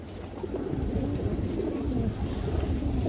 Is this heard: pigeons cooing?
yes